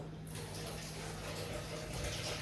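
Water pours into a jug for cucumber and lemon water in a steady, close splashing rush that runs without a break, with no talking.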